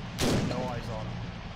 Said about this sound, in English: I need suppressive fire on him.